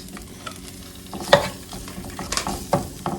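Shrimp cut into thirds frying in a pan, close crackling sizzle with scraping stirs and a few sharp utensil clinks against the pan.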